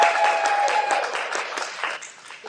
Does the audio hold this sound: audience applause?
yes